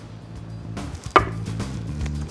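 A knife slices through smoked prime rib cooked on a pellet grill, giving one sharp cutting knock amid soft scraping, close by, over a low steady background hum.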